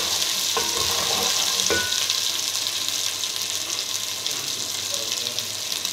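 Onions and spices for mutton korma sizzle and fry steadily in a pan, a constant hiss close up with a few clinks of stirring.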